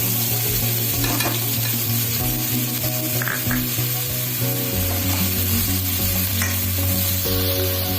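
Chopped onion and green chili sizzle continuously in hot oil in a pan, a loud, close, steady frying hiss lasting throughout, with a low hum and stirring under it.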